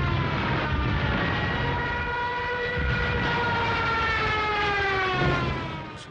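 A wailing siren rises and holds over a rumbling roar, evoking the screaming siren of a German Junkers 87 Stuka dive bomber, loud and continuous for several seconds before fading slightly.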